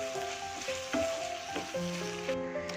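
Prawns and tomatoes sizzle and fry in a pan with gongura leaves as a utensil stirs them, giving a close, steady frying hiss with repeated scraping strokes and faint tonal clinks from the pan.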